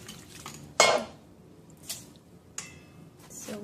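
Raw chicken being rinsed in a bowl or pot to wash off ginger juice and salt, with a few splashy clatters of water and dish, a sharp burst near the start followed by softer knocks.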